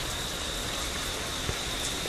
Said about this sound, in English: Why is it not normal rain?